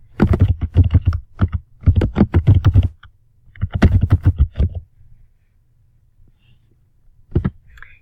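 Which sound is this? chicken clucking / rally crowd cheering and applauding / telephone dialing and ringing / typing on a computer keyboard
typing on a computer keyboard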